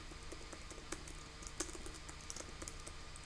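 Keys tapping on a computer keyboard in sparse, irregular clicks, faint under a steady background hum, with no talking.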